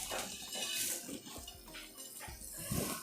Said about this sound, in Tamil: ஸோ தண்ணி நல்லா கொதிக்கிறது.